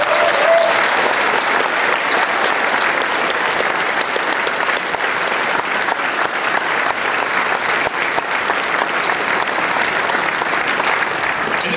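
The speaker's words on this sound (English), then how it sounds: "big round of applause for BBF for the great video" Loud, sustained audience applause at the opening ceremony of a furry convention, a thick steady roar of many clapping hands lasting about twelve seconds without a break.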